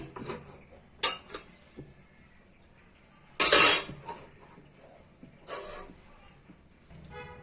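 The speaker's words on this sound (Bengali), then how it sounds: "এখন কড়াইটা চাপিয়ে দিচ্ছি।" A few sharp metallic clanks of a wok being set down on a lit gas stove, one loud knock among quieter clicks and shuffles.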